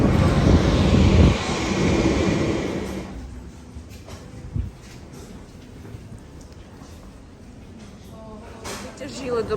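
An airplane at Rome's airport as passengers step down the aircraft stairs. A loud engine roar fills the first few seconds, then gives way to quieter airport ambience with scattered clatter and thumps.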